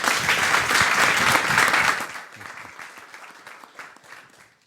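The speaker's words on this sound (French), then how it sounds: "On peut les applaudir encore une fois." A church congregation at a Sunday service claps together, a loud burst of many hands that fades after two seconds into lighter, scattered clapping.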